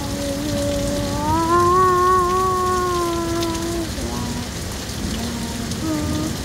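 Heavy rain pours steadily during a storm, a dense close hiss throughout, with a voice talking over it.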